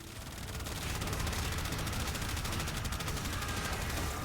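Rapid gunfire from the video game Warframe, a dense continuous crackle of repeated shots held at steady loudness throughout, with no talk over it.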